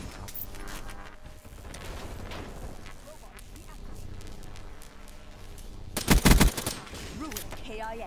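Video game gunfire aimed at an evac helicopter as it lifts off, with rapid shots under ongoing talk and a loud burst of heavy firing near the end.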